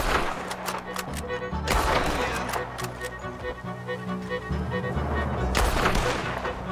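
Sniper rifle shots ring out in the Red Dead Redemption 2 video game, several sharp cracks spaced seconds apart over a steady bed of in-game ambience and rumble.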